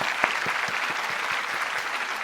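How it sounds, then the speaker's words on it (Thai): Audience clapping continuously with scattered sharper claps, a steady crowd applause throughout. "ปรบมือให้เขาหน่อยครั"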